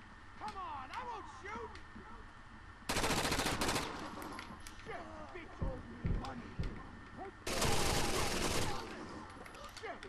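Automatic gunfire from the video game Rainbow Six Vegas 2 erupts in two loud sustained bursts, with sporadic single shots between, while excited players talk over the action.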